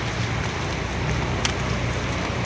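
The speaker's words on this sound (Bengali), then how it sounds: "আবার এদিকে বৃষ্টি আসছে প্রচুর" Heavy rain pours down outdoors in Japan, a dense, steady hiss of falling water that continues evenly throughout with no voices.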